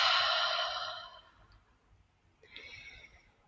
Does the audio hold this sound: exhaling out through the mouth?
yes